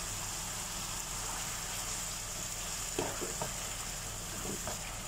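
Chicken and tomato chili paste stir-fry in a hot pan for rice vermicelli, with a steady, loud sizzle throughout. A few soft scraping stirs break through near the end.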